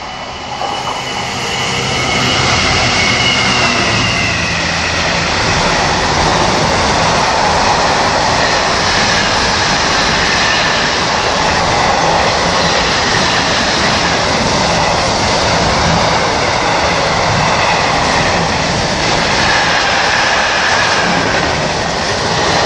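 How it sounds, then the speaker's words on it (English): A Class 66 diesel locomotive hauling a freight train passes close by at Acton Bridge, a loud, sustained rumble and roar of engine and wagons that holds steady for the whole stretch with no talking. "We have another freight, class 66, from I think Ditton to Crewe Bashford Hall."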